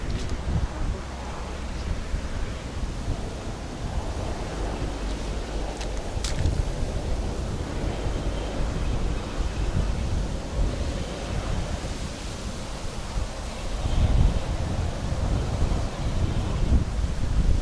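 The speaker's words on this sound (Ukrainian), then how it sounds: "Дуже сильний вітер." Strong wind on the Dniester River roars and buffets the microphone steadily, with gusts rising and falling over a constant rushing noise, and no one speaking.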